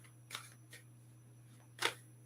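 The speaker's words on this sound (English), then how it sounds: "Shuffle them back up together." Tarot cards shuffled by hand in a few short, crisp riffling bursts separated by pauses, close and fairly quiet over a low steady hum.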